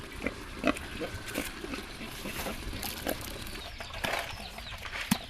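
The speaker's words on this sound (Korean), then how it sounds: "라우족에게 돼지는 소중한 가족이자 재산입니다." Pigs kept by Lahu villagers in a remote Thai mountain village grunt and oink in short, scattered bursts over steady outdoor background noise, fairly close and moderately loud.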